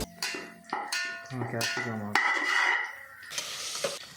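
Curry leaves drop into about 100 ml of hot oil in a pan for tomato bath, a burst of crackling sizzle that follows metallic clatter from the pan, with a voice talking briefly beforehand.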